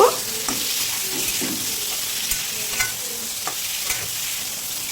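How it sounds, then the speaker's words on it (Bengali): Papaya and cucumber with whole green chillies fry lightly in a pan, a soft continuous sizzle with occasional stirring scrapes, close and without talk. "কাঁচা লঙ্কাগুলোকে কিন্তু আমি গোটাই দিয়েছি এবার হালকা ভেজে নেব"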